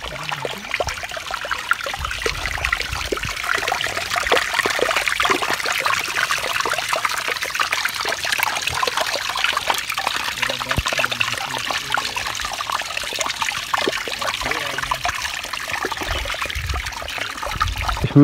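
Clean drinking water runs from a pipe at a waterfall valley near Islamabad, a steady close trickle and splash that continues evenly throughout, loud and alone without talking.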